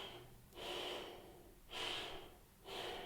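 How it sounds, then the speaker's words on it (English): Shallow chest breathing close to the microphone: three audible, hissy inhale-exhale cycles with brief quiet pauses between them, no talking. "I'm breathing into my chest."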